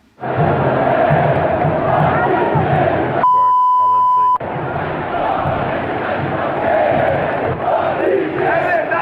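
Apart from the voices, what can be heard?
Flamengo football fans chanting in stadium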